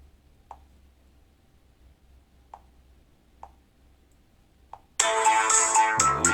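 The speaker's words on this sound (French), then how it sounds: "je vais vous faire écouter le son de la sonnerie" A UMIDIGI Bison phone sits mostly quiet with a few soft isolated ticks, then its ringtone bursts in loud and bright, a melodic, tonal ring that continues to the end.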